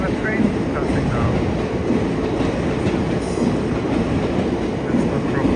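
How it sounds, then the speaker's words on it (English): A train rumbles past nearby in Mizonokuchi, Kawasaki, Japan, on a rainy evening, with a steady rolling clatter of wheels on rails, loud and continuous throughout. "there's even a train passing now"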